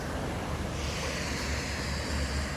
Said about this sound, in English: God damn, look at the flow on the river